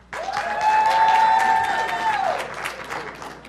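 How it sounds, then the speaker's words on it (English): A live school audience cheers and applauds as their school gets a shout-out, a loud burst of clapping and crowd noise with a sustained whistle-like tone that swells and then thins out over a few seconds. "you can feel free to cheer for your school as I give a shout out to that school"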